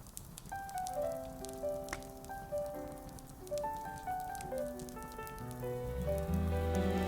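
A soft bed of gentle rain patters steadily while a quiet, slow piano melody plays over it, calm and fairly faint throughout.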